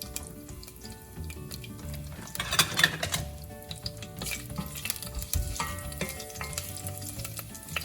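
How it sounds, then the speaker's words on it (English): Steady sizzling of hot oil, with scattered small pops and crackles of mustard seeds and dried chilies crowding together through the middle. It sounds close, and no one speaks. "You can hear the mustard popping."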